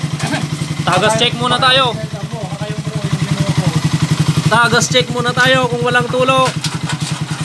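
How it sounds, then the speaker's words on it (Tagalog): A Suzuki Raider 150 motorcycle engine idles steadily nearby with a rapid, even putter that runs through the whole clip while someone talks over it. "Smooth na yung makina oh."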